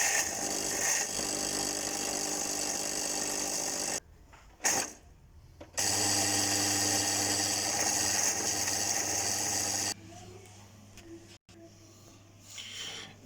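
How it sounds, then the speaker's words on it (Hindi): An electric spice grinder runs in loud bursts while grinding homemade garam masala, with two long steady whirring stretches separated by short pauses and a brief start, then a quieter rattling tail as it winds down. "अब इसको ग्राइंड करने लगा हूँ मैं।"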